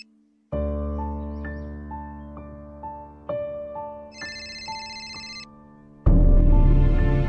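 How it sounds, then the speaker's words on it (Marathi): A phone rings with a repeating electronic ringtone melody, loud and steady over several seconds, its tones stepping up and down before a louder burst of music near the end. "वेद उचल, वेद फोन उचल."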